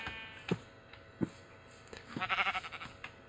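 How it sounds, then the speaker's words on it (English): A sheep bleating in the Minecraft video game, heard alone: a few separate short thumps, then a wavering, pulsing bleat near the end. "Sheep."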